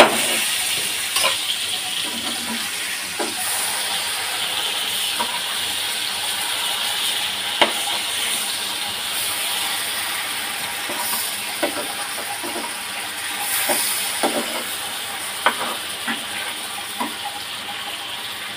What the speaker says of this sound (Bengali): আজকে সরিষার তেল দিয়ে ইলিশ মাছ ভাজা করতেছি